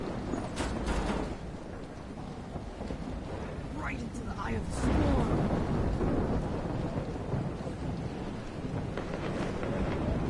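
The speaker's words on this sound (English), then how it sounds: "Right into the eye of the storm." Thunderstorm in the video game Life Is Strange: steady rain and low rumbling thunder fill the scene, with a voice speaking briefly over the storm.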